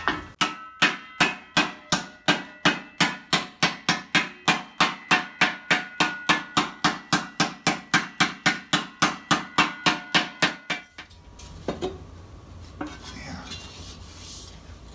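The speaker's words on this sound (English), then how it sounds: "I do a lot of wood planishing before I go to the anvil and do steel planishing." A hammer planishes a steel armor pauldron on wood, striking in a steady, rapid rhythm of about forty close, sharp blows before stopping, leaving faint rustling and handling noise.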